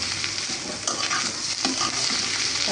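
Bitter gourd fries in hot oil, a loud, continuous close sizzle laced with light scrapes and taps from stirring, with nobody talking.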